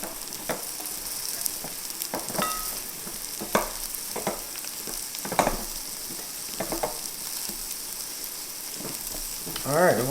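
Steak fajita ingredients stirred in a hot pan, a continuous sizzle punctuated by repeated scraping strokes of a utensil, with a brief voice near the end.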